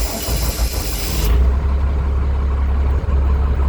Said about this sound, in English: So now I'm going to go ahead and start the truck.